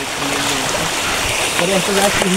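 Flowing water from a jungle stream rushes steadily under a voice talking close by.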